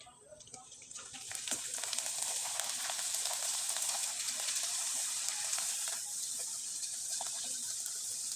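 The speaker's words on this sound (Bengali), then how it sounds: "এই পিঠাগুলো হালকা আছে ভেজে নিতে হবে" Potato and semolina pitha frying in hot oil, a dense continuous sizzle that swells after the first second and then holds steady and close.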